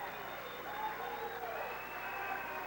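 Crowd cheering and applauding for West Deptford at a 1996 high school wrestling meet against Paulsboro, a steady wash of clapping and noise filling the whole clip.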